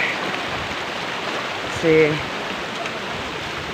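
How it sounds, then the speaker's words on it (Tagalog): Sudden rain at a campsite near Kwagsik Falls, a steady broadband hiss of rainfall filling the scene, with a brief spoken word over it midway. "biglang umulan."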